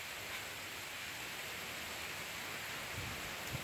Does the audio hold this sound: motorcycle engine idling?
no